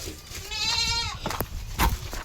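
A small dairy goat gives one clear, wavering bleat up close, followed by rustling and a couple of soft knocks.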